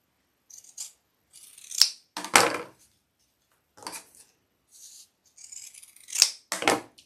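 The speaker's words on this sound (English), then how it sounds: "now I'm going to trim down the material, but not the zipper" Scissors snip through fabric while a shoulder bag is sewn, a series of short crisp cuts in small clusters with quiet gaps between them, close and clear with no talking.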